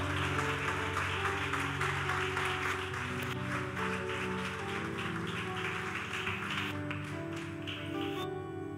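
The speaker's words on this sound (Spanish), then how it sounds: "Dale la fuerte el aplauso al Señor Jesucristo" A church congregation claps in a steady, dense wash of applause at a worship service, with sustained music tones running underneath throughout.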